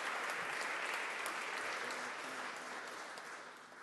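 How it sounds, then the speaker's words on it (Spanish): Sustained applause fills a hall as the audience honors national prize winners, thick clapping loud at first and gradually tapering toward the end, with no talking over it. "Un aplauso para ellos también."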